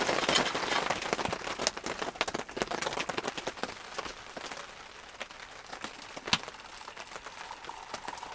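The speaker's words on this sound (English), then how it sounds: "The rain's calmed down a little bit there." Rain falls on a cabin during a bushcraft camping stay, a dense patter that starts heavy and eases off, with scattered sharper drips on the roof and no talking.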